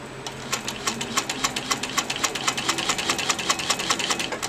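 A domestic sewing machine stitching fabric runs in a fast, steady burst of rapid needle strokes, close and fairly loud, with no talking.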